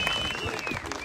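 An audience at an Ambedkar Welfare Society honoring ceremony claps loudly in a dense, continuous burst of applause, with a faint voice underneath.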